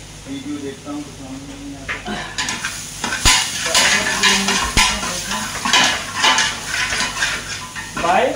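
Spices being stirred into meat in a cooking pot for Kuwaiti marag laham, with steady scraping, clinking utensil strokes against the pot over a soft sizzle, close and continuous throughout.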